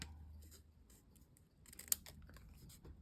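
Scissors snip through a piece of card for a skeleton Halloween card, a few quiet close cuts with one sharp louder snip near the middle, otherwise faint and alone.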